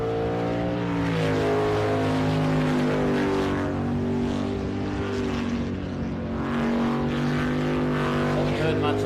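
A V8 superboat racing engine at an Australian championship round, a loud, sustained growling drone with strong steady harmonics and slight pitch shifts as the boat runs, with a commentator talking over it.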